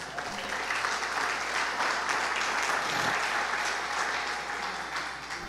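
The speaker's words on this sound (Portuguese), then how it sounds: "Vamos aplaudir o Senhor?" A church congregation applauds the Lord during a Pentecost sermon, giving a continuous wash of many hands clapping at moderate level, steady throughout with a slight fade at the close.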